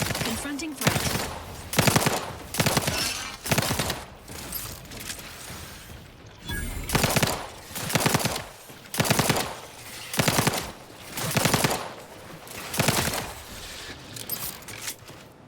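Repeated bursts of automatic gunfire from The Outer Worlds 2, played on very hard difficulty, come in regular volleys about a second long, loud and close, separated by brief pauses across the whole stretch.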